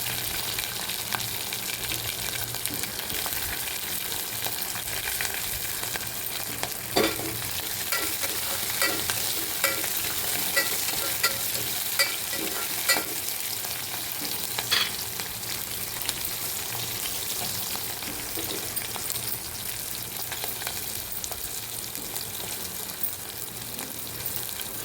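Green chillies frying in a pan of oil with browning onion, a steady dense sizzle throughout with occasional stirring clacks, close and continuous with no voices.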